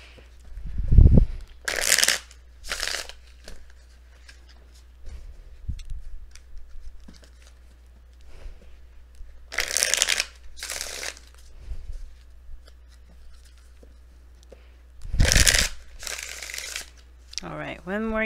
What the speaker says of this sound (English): one more good shuffle and then we'll be good to go